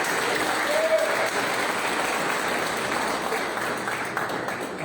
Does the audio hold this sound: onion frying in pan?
no